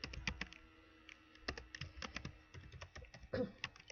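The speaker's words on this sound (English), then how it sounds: "let me type this in here." Keys clack on a computer keyboard in quick irregular bursts while weighing and entering recipe ingredients, close and fairly quiet, with no talk.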